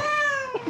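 A hairless Sphynx cat at a vet clinic gives one drawn-out, close meow that dips in pitch toward its end.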